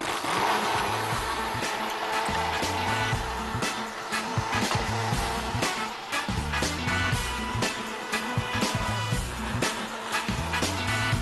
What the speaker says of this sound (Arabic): وشغل الخلاط على السرعة الأخيرة.